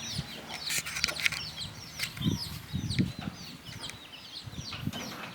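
Roosters and hens cluck and squawk close by in overlapping bursts on a dog farm, with scattered calls throughout.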